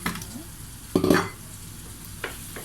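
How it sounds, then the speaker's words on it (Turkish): Mixed vegetables sauté softly in a pot while a utensil stirs and scrapes a couple of times, the frying steady underneath. "Birazcık sotelensin."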